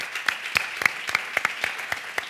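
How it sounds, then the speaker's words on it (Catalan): A live show audience claps for the viewers on a Catalan entertainment programme, a brisk, uneven patter of individual hand claps that fills the room steadily and close by, with no voices over it. "un fort aplaudiment per vosaltres"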